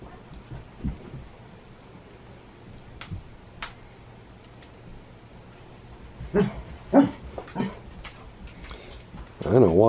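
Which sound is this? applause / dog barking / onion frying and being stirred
dog barking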